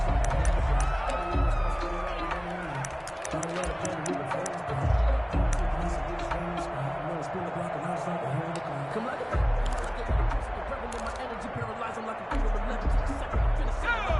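Broad stadium crowd noise from a PS4 American football game, a steady roar with faint cheers that runs throughout under a commentator's continuous talk.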